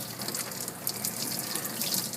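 A tap runs in a sink while a kitten is rinsed during a bath, a steady splashing patter of water that is moderately quiet and close, with slight fluctuations and no talking.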